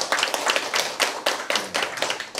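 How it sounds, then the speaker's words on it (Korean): A group claps in steady, rhythmic waves at a Lions Clubs International District 355-C leaders' academy gathering, with close, crisp, sharp hand strikes repeating in even bursts and no voices. "다시 한번 우리 여러분 큰 박수로 감사의 표시해 주시기 바랍니다"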